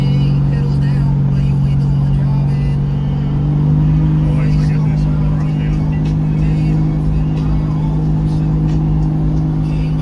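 Holden HX Ute pulling hard onto a freeway with a leaky oil filter, a loud steady engine drone from inside the cab that rises slightly in pitch partway through, with a voice speaking over it.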